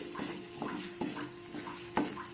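Peas paneer masala with yogurt being stirred and sautéed in a pan over low flame, a spoon scraping rhythmically about twice a second with a light sizzle underneath, close up.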